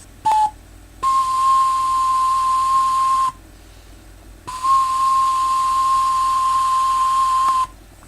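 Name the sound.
hand whistling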